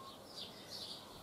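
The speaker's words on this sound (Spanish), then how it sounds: "No hay un ruido, como podéis escuchar, solo se escucha a los pajaritos" Small birds singing outside on a quiet porch, faint high chirps and twitters drifting in over a soft steady background hush, distant and gentle, no voices.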